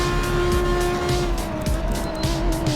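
Race car engine in Assetto Corsa Competizione on the Macau circuit, a loud steady drone with shifting pitch as the driver brakes and powers back on, tire noise mixed in, close and continuous without talk.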